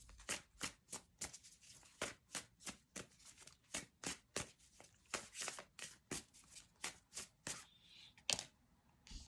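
Tarot cards are shuffled and drawn, a steady series of crisp riffling flicks and slaps, close and quiet, with a few brief sliding sounds near the end.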